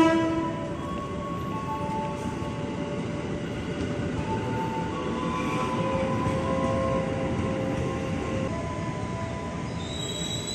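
A KRL commuter train, a JR205 set, rolls into track 3 at Jatinegara station with a continuous rumble of wheels and high screeching squeals from the rails, close and sustained throughout.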